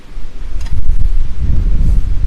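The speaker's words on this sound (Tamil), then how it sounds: "செம்ம காற்று." Strong wind on a rainy evening, loud rumbling gusts buffeting the microphone with rustling leaves, swelling and easing over a couple of seconds, with no talking.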